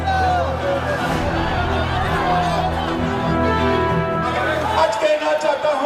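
A huge crowd shouting slogans at Amit Shah's roadshow in Birbhum, a dense continuous roar of massed voices and chanting that stays loud and unbroken throughout.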